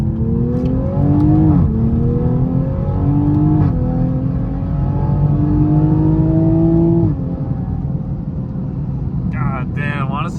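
A Toyota A90 Supra fitted with a CTS Turbo downpipe accelerates hard, its loud engine note rising in stepped pulls through the gears before dropping off. A voice briefly speaks near the end.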